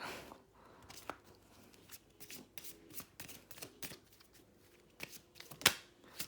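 Repeated crisp riffling and slapping of tarot cards being shuffled close by, in quick irregular bursts with brief pauses between.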